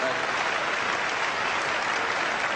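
Steady applause from an audience at a comedy magic show, dense and continuous throughout, with no voices standing out.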